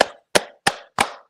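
Five sharp, crisp claps at a steady, even pace, close and loud, with short silences between each one.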